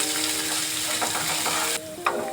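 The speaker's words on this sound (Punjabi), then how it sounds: "ਲਸਣ ਤੇ ਅਦਰਕ ਨੂੰ ਅਸੀਂ ਭੁੰਨ ਲਵਾਂਗੇ ਥੋੜਾ ਜਿਹਾ" Garlic and ginger frying in a pan for a potato and tinda curry, a steady close sizzle that runs throughout, with a brief stir or clatter near the end and no talk.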